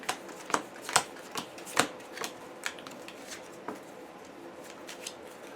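A deck of cards is shuffled at the table during a board game, with a series of crisp riffles and snaps, a few sharper ones early and softer ones later, close and fairly quiet with no talk.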